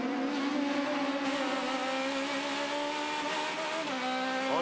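Onboard engine of an Aussie Racing Cars race car with Camaro-style bodywork at Symmons Plains, a loud continuous high-revving drone with steady harmonics that dip briefly near the end.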